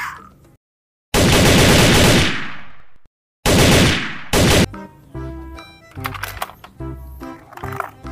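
Two long, loud bursts of electronic rapid-fire gunshot effects from a toy M16 gun, separated by a short gap, followed by quieter clicks and jingling toy sounds.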